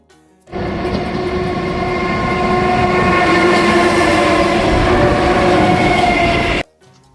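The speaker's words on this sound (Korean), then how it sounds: "여기를 건너자마자 열차가 지나가더라고요." A canyon train roars past close by near Buncheon and Seungbu stations, loud and sustained for about six seconds, with a steady horn-like tone riding over the rumble before it cuts off.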